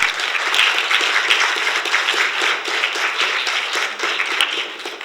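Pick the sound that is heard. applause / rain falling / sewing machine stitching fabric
applause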